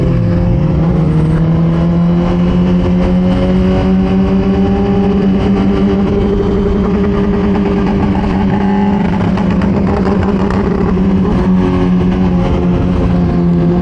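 Suzuki GSX-R 1000 sportbike engine revving loudly and close, a continuous high-pitched wail with gliding pitch as the throttle rises and falls, staying strong throughout with no talk.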